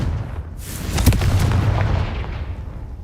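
Bombarda or Confringo spell explosion in the Hogwarts Legacy video game, a sudden blast followed by a deep rumbling boom and crackling debris that roll on and slowly fade, loud and close.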